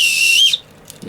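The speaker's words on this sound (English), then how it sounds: "This is a whistle compass." A single shrill whistle blast from a small whistle compass, sustained for about half a second and then cut off, leaving near silence.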